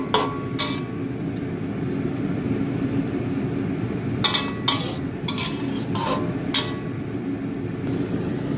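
A spoon stirs sardine sambal with green chilies and potato in a cooking pot, giving sharp intermittent clinks and scrapes against the metal over a low, steady background simmer.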